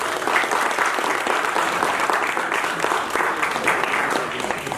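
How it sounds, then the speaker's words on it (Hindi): An audience at a theatre performance of the play Dakghar claps loudly, a dense, steady wash of hands that carries on unbroken from start to finish. "जोरदार तालियां।"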